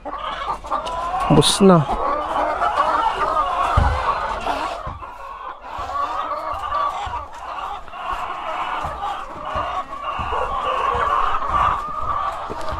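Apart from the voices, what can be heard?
chickens clucking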